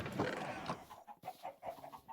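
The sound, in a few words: chickens clucking on chicken farm in video game Minecraft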